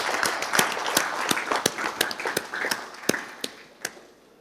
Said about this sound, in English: if you can clap for Puma Energy and Accenture